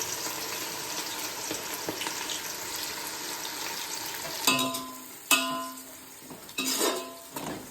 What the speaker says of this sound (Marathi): आता हे कांदे त्याच्यात टाकते आणि कांदे मस्त फ्राय करून घेते